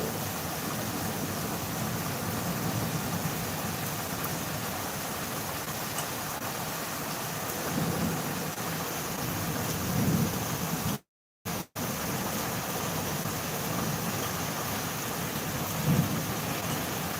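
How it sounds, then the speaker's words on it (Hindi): Steady heavy rain pours down during a thunderstorm in Ayodhya, India, with a few low rumbles of thunder rolling in the background, briefly cutting out midway. "बहुत तगड़ा तूफान, बहुत ही ज़्यादा बिजली भी कड़क रही है आज तो"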